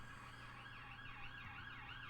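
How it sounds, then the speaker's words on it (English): An emergency vehicle siren wails outside, a rising and falling tone repeating steadily, faint and distant over a low rumble. "I'm sorry for any sirens you may hear outside."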